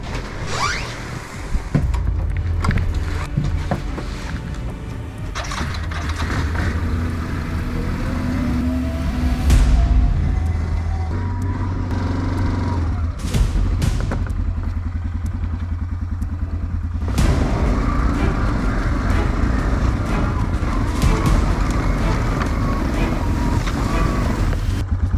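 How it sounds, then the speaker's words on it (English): Old Yamaha Bruin ATV being ridden, a steady loud engine drone mixed with heavy wind buffeting on the microphone, continuous for the whole stretch with brief changes in pitch as it moves. "Let's go take the old Yamaha Bruin out."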